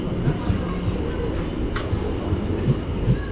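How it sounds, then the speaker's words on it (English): A Greater Anglia passenger train pulls into a station in Essex with a steady rumble and soft rhythmic wheel clicks, a brief squeal partway through, and faint voices in the background. "now in comes our train"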